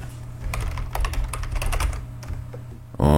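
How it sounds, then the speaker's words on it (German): Computer keyboard typing, close and fairly loud, a quick uneven run of key clicks over a low steady room hum, with a louder burst at the very end. "natürlich auch eventuelles Tippen"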